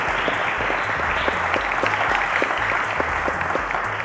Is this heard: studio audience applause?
yes